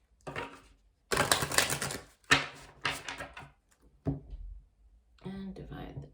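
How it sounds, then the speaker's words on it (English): Oracle cards riffled in one final shuffle, crisp papery bursts of flicking and slapping that come close and loud in a few quick runs, separated by short pauses, with a soft voice in between. "One last shuffle."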